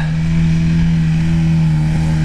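An off-road car with two self-locking differentials drives in a GPS orienteering competition on the steppe, its engine a steady, loud low drone throughout, nearby and without talk.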